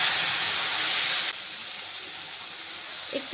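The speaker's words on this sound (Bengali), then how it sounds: "এখন দিয়ে দেবো সেই গুঁড়ো মশলাটা যেটা মিশিয়ে রেখেছিলাম।" Ground spice mix hits hot mustard oil with a loud, steady hiss of sizzling that drops abruptly to a quieter, continuous fizz after about a second, with no voices.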